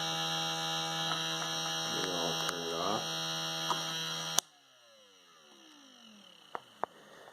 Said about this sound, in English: that's the internal gyro, so you can hear the hum from it spinning